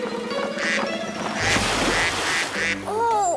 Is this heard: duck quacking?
yes